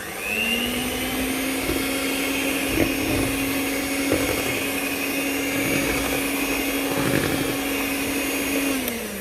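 An electric mixer beating cake batter, a steady loud motor whine holding a constant pitch for about nine seconds before spinning down, with faint clinks of the beaters against the bowl.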